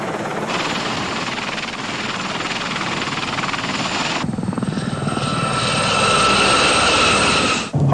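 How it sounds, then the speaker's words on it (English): Air Force Pave Low helicopters fly in a loud, continuous rotor and turbine roar that shifts in tone midway and swells toward the end, with no talk over it. "Air Force Pavlo helicopters, equipped with more advanced navigational systems, are assigned to act as pathfinders for the Army assault team."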